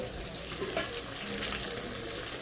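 Fish frying in oil in a home kitchen pan, a steady close hiss and crackle running throughout with brief stirring clinks, no voices.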